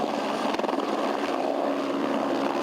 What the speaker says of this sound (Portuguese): Helicópteros ajudaram a controlar as chamas.